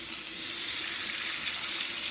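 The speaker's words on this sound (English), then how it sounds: "we're going to put our hamburger patties right into the oil" Hamburger patties fry in hot oil in a cast iron skillet over medium heat, a steady close sizzle with a broad crackling hiss that holds level throughout, with no talking.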